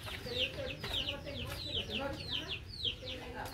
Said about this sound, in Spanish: Miren dónde pone la gallina esa.